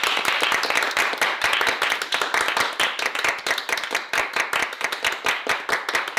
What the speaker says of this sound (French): Est-ce que vous pouvez me faire un joli applaudissement pour la fin de tournage s'il vous plaît?